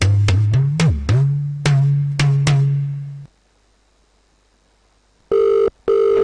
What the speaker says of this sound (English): Olumide, why are you answering the phone?